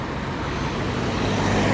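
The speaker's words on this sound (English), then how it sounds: "Then a car's gone past." A car drives past near the junction of Hipswell Road West, a loud, steady roar of tyre and engine noise filling the whole moment without any voices.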